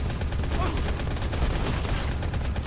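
A steady barrage of rapid automatic gunfire from the mobile shooter game Modern Combat 5 rattles on without a break, loud and dense throughout.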